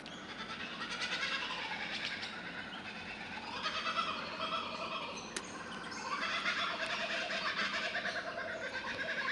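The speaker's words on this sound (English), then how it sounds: "Kookaburra's going off." A kookaburra calls in the bush during a hunting outing, a raucous, cackling chorus that carries on steadily at moderate distance over outdoor ambience.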